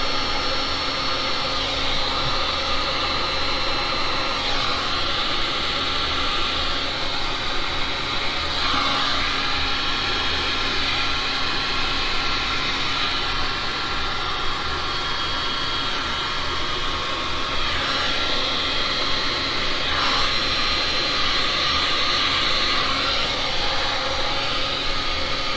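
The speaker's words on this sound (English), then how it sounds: "Now I'm just going to blow it all the way around the edge." Steady, loud rush of blown air across the edge of a heart-shaped resin pour in purple, blue and copper, continuous broadband hiss with no talking.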